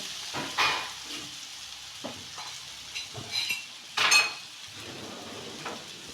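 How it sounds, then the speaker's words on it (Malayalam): Soft sizzling of crushed ginger-garlic paste in a pan with intermittent scraping and clinks of a spoon stirring, a few louder metallic knocks standing out, while making prawn biryani. "ഇഞ്ചിയും വെളുത്തുള്ളി പേസ്റ്റ് നമ്മൾ ചതച്ചതാണ് അതിട്ട് ഒന്ന് ഇളക്കി കൊടുക്കാം"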